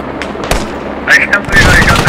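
Grenade blasts and rapid gunfire hit a helicopter in a combat video game: loud, close bursts of shots and booms, with a denser burst of explosions toward the end.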